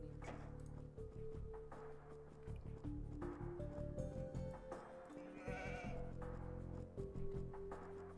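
Sheep bleat repeatedly in Age of Empires 2, a series of faint, drawn-out cries layered over quiet game music with soft dripping and squishing effects.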